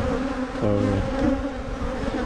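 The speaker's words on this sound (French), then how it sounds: "les abeilles, bourdons, ainsi de suite" Bees and bumblebees buzzing close by among spring flowers left for pollinators, a steady droning hum with one insect passing near in a brief louder tone, no voices.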